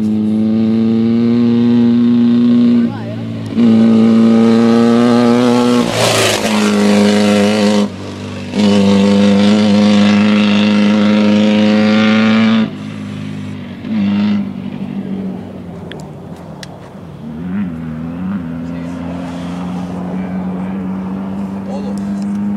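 Off-road race car at the Baja 1000 race, its engine revving hard in loud sustained bursts with sharp gear changes, then dropping to a lower idling drone as a voice talks nearby.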